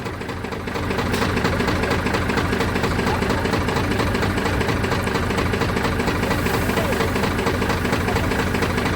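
A diesel tractor engine runs at close range after a field sowing job, a loud, continuous, even drone with a fine rapid throb that holds steady for the whole stretch.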